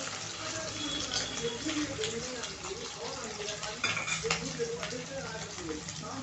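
Bombay duck (bombil) fish shallow-frying in hot oil until reddish, a continuous bubbling sizzle held close and steady, with a person talking over it.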